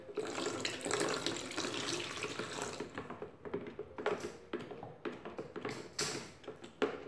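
Water pours and splashes into a homemade detergent mixture, a continuous rushing flow that breaks into choppier bursts and clinks toward the end, close and fairly loud.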